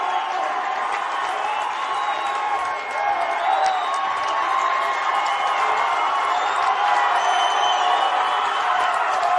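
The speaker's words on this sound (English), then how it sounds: "as the crowd again coming to their feet" A baseball crowd at a 6A high school championship game makes a steady, distant murmur with faint cheers and scattered claps, while an announcer talks over it throughout.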